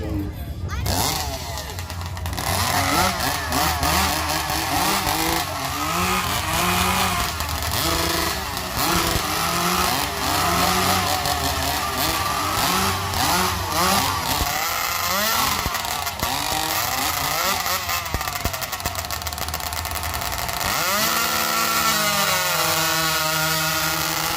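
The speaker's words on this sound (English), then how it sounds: "Let's get those saws going." Chainsaws roar steadily at a lumberjack show competition at a 4-H county fair in Janesville, Wisconsin, loud and continuous for the timed cut, with an announcer talking over the engines.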